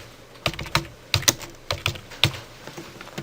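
Computer keyboard keys tapped in short irregular bursts, crisp close clicks with small pauses between them, alone without talk.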